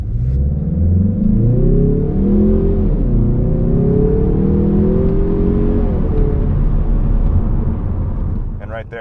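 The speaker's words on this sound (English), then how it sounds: "in terms of getting off the line, I'll throw in a clip right here, it doesn't feel very quick at all." Mazda 3 Turbo hatchback pulling away from a standstill, its engine droning and rising in pitch through steady acceleration, loud and close from inside the cabin, with a brief clatter at the end.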